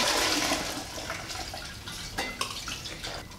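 Water pours and gushes as soaked dried black-eyed peas are drained, a loud steady splashing rush that tapers slightly, with faint clinks, heard alone without talking.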